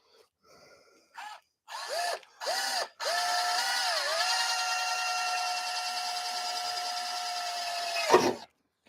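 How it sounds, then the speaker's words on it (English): A standard drill with a 3/16 bit boring holes while hood struts are fitted to a 2003 Ford Focus SVT: a few short motor bursts, then one long steady whine that stops abruptly, close and clear. "We're going to come in here and we're going to drill both of these holes."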